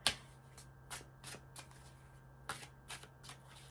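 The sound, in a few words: shuffling tarot cards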